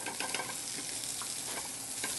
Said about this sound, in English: Meanwhile, I think we'll saute our mushrooms.